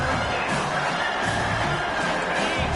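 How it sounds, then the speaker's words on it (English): Dense crowd roar fills a football stadium as fans get behind the defense on third down, a steady, loud wash of voices and cheers with occasional whoops, holding level throughout. "Decibels rising as the crowd gets behind this defense on 3rd down"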